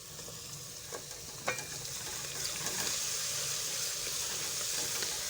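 Steady sizzling of garlic, onion and ginger-garlic paste frying in a hot pan, a constant crackling hiss with occasional stirring scrapes and pops.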